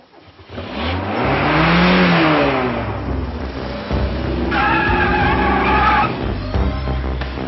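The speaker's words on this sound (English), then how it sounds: "Driver, start your engine." A car engine turns over and roars up, revving loudly and rising and falling in pitch before settling into a strained, high rev.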